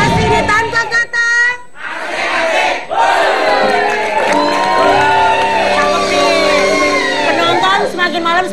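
A studio audience at an Indonesian evening television show cheers and shouts together, loud overlapping yells and whoops rising and dropping in waves, with brief dips before surging again.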